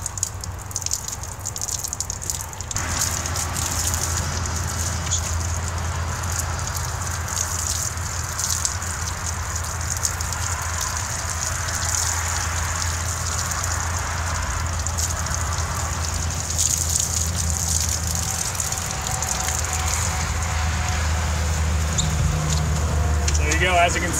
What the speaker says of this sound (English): got my hose. I'll go ahead and give it a rinse.